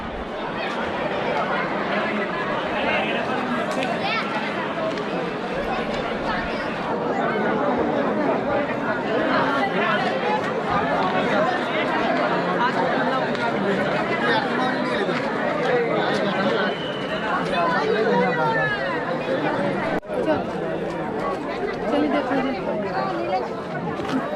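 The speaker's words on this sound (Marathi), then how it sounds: "खूप गर्दी आहे भक्तांची" Crowd of devotees at Bhimashankar temple chattering, a dense steady babble of many voices close around, continuous and busy throughout.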